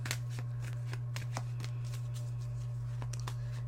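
Oracle cards being shuffled by hand during a tarot and oracle reading, a run of crisp riffling flicks and slides close by, over a steady low electrical hum with no talk.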